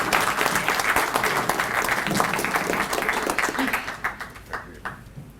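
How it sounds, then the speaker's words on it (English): Audience applause for Mayor Tom Reed at a 2016 spring event, a dense steady burst of clapping that thins into scattered claps and fades near the end. "Please give a round of applause for Mayor Tom Reed."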